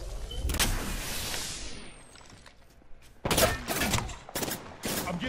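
Gunfire in the video game Apex Legends: a loud, close, crackling burst, then a quieter stretch followed by several more sharp volleys in quick succession.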